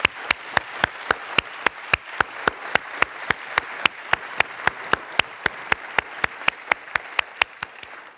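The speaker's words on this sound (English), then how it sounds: "Let's give all of our veterans a round of applause." A church congregation claps for veterans in a steady, evenly spaced rhythm of sharp claps, loud and unbroken for several seconds with no voices.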